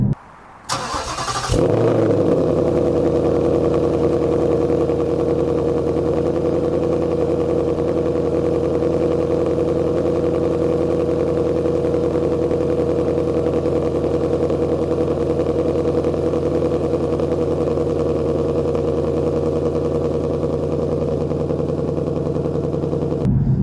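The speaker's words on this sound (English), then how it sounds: "when the engine revs down, the noise or the sound is not really, but almost the same as it was pre-installing the H-Pipe" A 2018 Mustang GT with a Steeda H-pipe and active exhaust starts with a burst, then settles into a loud, steady, deep rumble that holds close and unbroken for over twenty seconds.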